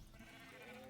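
Sheep bleat in the video game Make Your Kingdom, a sheep farm with lambs, giving soft, wavering animal cries that run steadily through the moment at low volume.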